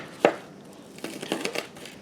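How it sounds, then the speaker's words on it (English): A knife cuts through the second half of an onion on a board, giving one sharp chop followed by several quicker, softer cuts close by with no talking. "I'm just going to cut the other half of this onion"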